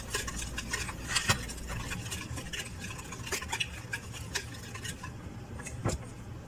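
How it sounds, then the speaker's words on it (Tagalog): Flour is stirred into orange cake batter with a utensil against a bowl, producing soft repeated scraping and ticking clicks at an irregular rhythm, quiet and close, no voices. "Yung, flour. Mix mo lang maigi."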